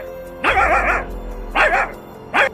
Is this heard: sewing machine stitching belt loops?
no